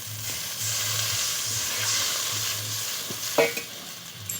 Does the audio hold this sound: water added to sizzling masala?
yes